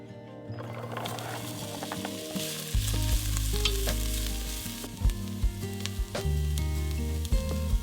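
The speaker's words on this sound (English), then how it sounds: "I'm just gonna saute it up really quick." Garlic, celery, onion and carrots sauté in a pan with a steady, close sizzle and occasional stirring scrapes, while tonal background music plays throughout.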